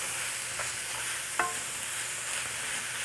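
Crushed, peeled boiled tomatoes added to a hot pan for sloppy joes, with a moderate frying sizzle, a sharp scrape of stirring and a few soft utensil knocks.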